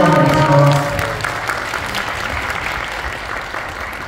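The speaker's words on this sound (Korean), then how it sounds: "다시 한번 뜨거운 박수 부탁드리겠습니다" An audience at a blockchain lecture event claps warmly, with loud close applause at the start that thins and fades over about four seconds.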